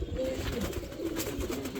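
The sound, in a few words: pigeons at a pigeon farm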